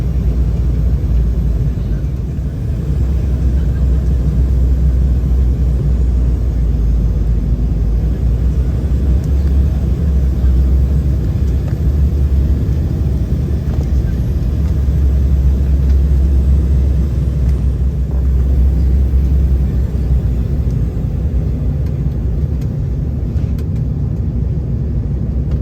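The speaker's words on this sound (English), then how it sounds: "After a short 1-hour flight, we are landing back in Caracas" Cabin of a Conviasa airliner landing at Caracas, a steady loud low engine and airflow roar filling the whole stretch without a break, with no talk.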